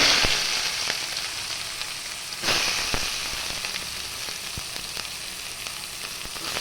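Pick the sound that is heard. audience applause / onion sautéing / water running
onion sautéing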